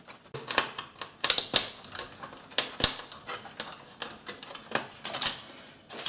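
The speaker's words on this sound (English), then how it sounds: "there are a couple of more screws in here as well." Screws are removed from a Teac V-610 cassette tape deck: a close series of sharp metallic clicks and small clatters, irregular and fairly busy, with no talking.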